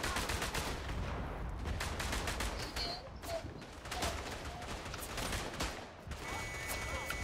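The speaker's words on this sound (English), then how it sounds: "Wait, there's a machine gun." Dense gunfire from a World War One battle video game crackles almost without pause. Bursts of shots overlap and blend into a busy battlefield wash at moderate loudness, with no voices over it.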